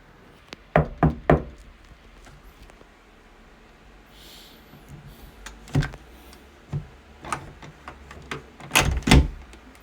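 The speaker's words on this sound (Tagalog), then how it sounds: "Kakatok na ako sa pinto." Someone knocks on a door in sharp groups: a quick triple rap, a pause, then scattered single knocks and a final cluster of heavier raps, close and loud against a quiet room.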